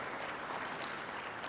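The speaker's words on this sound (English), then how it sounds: "makofi hayatoshi" Audience applause at a conference on personal data protection and privacy in Tanzania, a dense steady clapping from a crowd that holds even and fairly loud for the whole short stretch.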